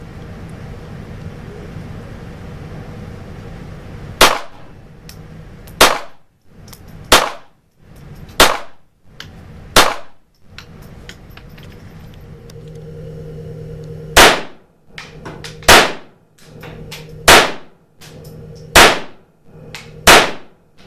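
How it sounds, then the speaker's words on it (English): A toy pistol fires again and again in sharp, loud cracks, roughly one every second or so in two bursts over a steady background hum, with no talking. "Wow, this pistol is very good."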